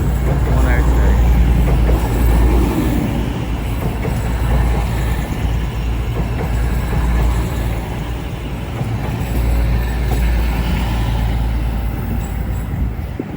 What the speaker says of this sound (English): Soon to arriving now, 25 minutes late, will be the 11:30. East Midlands Railway says from St Pancras International to Sheffield.